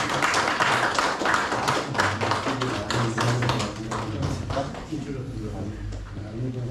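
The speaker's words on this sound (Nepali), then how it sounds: "एकचोटि यो बत्ती झर्ने गरी ताली बजाइदिनको लागि म अनुरोध गर्दछु" An audience claps at a Nepali poetry competition event, a dense, steady patter of many hands that stays fairly loud and eases slightly toward the end.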